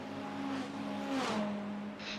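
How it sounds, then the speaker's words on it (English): A Corvette V8 race car in a Supercars series race at Interlagos holds a steady, droning engine note that lifts briefly with a revving surge and then settles, heard at moderate distance with no voices. "I love the sound of that Corvette."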